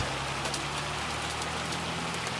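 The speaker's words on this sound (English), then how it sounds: "everything's sitting out and it's hailing" Steady rain and hail in the Farming Simulator 25 video game, drumming across an open field with farm equipment sitting out. A dense, even wash of drops lasts the whole stretch, with a low engine-like hum underneath and no talk.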